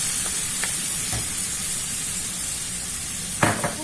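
Onions, mushrooms and garlic frying in a pan give a steady close sizzle throughout, with a few soft stirring clinks and a brief louder scrape near the end.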